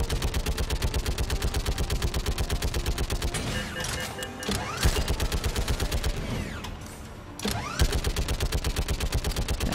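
Rapid, evenly paced automatic gunfire from the video game Mass Effect 3 rattles on loud and near. It stops for a few seconds mid-stretch, where scattered mechanical clatter fills the gap, and then the steady bursts resume.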